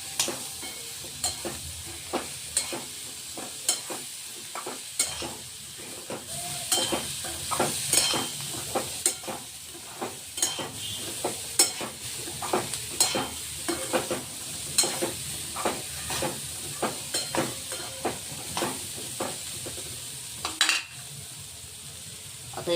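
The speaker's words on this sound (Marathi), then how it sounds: "आणि हे चणे यामध्ये घालून घ्यायचे" Chickpeas hiss and sizzle in a hot pan for chana chaat while a spoon scrapes and taps steadily against the metal, a continuous close frying sound with regular stirring clicks.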